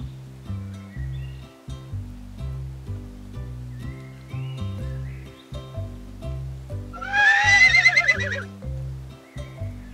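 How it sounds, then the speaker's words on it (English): A horse neighs loudly in a shaky, descending whinny over a bouncy repeating musical backing, with softer melodic sounds around it, in a children's cartoon. "Do you hear that? Who can neigh like that?"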